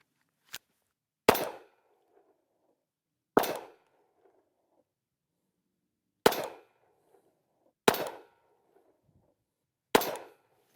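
A 10mm Glock pistol fires six sharp, loud shots spaced unevenly over about ten seconds. Each crack rings out alone and tails off quickly.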